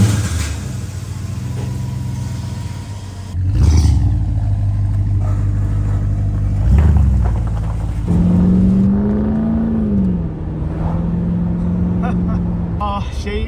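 A Holden 5L V8 car being driven, its loud engine rumble rising and settling through gear changes, with a pitched whine climbing in the later part and a few thumps along the way.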